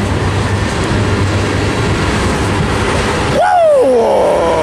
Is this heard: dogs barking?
no